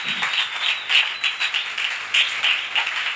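Congregation applauding in a church, a steady wash of many hands clapping together at moderate distance, with faint rhythmic swells and no talk over it.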